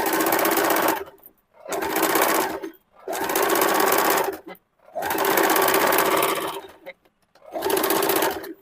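Bursts of a sewing machine stitching a princess cut kurti come close and loud, in five runs of about one to one and a half seconds each, with short silent pauses between them.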